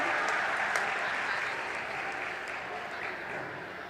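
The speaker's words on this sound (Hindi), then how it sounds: "जोरदार तालियां हम सब की ओर से होना चाहिए।" Sustained applause from a large crowd at the Akhil Bhartiya Kalidas Samaroh in a theatre, steady and fairly loud, tapering slightly toward the end.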